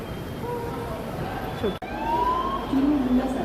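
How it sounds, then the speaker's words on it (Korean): A wailing siren rises in pitch over echoing background noise in Pangyo subway station, with a brief sharp break midway and voices faintly nearby. "사이렌 소리가 나고 난리가 났어요"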